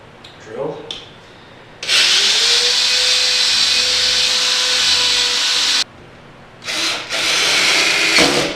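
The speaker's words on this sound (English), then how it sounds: "Drill." A power drill boring holes for a custom-built 3-inch raised floor runs loud and steady for about four seconds, stops, then starts again in a second burst, with brief handling noises before.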